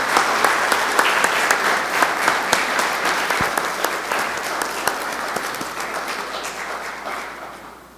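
Sustained applause from an audience at a public hearing of a municipal truth commission, a dense, steady clatter of many hands lasting several seconds before gradually tapering off at the end.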